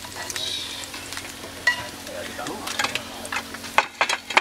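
A couple of eggs frying in a pan outdoors, a steady close sizzle with intermittent spatter crackles and small clatters, some faint voices in the background.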